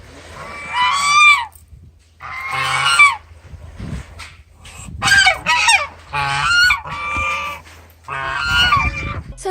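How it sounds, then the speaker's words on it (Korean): A goose honks loudly and repeatedly, several harsh calls in uneven bursts with short silent gaps, close by. "쳐줄 때 거위가 우는 소리 같은 게 난단다"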